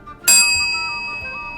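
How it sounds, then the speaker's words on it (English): A bright bell ding rings once as a sound effect, striking sharply and then sustaining a clear ringing tone that slowly fades, alone with no talk. "ring that bell"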